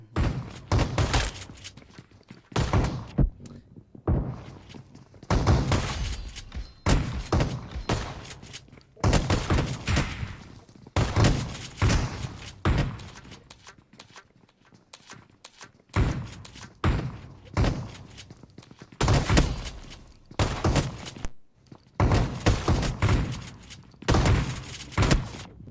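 Gunfire in PUBG Mobile during a grand-finals esports match: loud, rapid bursts of shots come in clusters separated by brief lulls, thumping and dense throughout.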